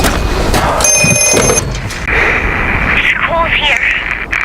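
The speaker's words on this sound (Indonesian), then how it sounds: "Seketika mereka pun panik saat mendengar telepon tersebut kembali berdering." A telephone from the horror film Black Phone 2 rings with a brief sharp metallic bell trill among tense scene noise and booming effects, a voice speaking over it.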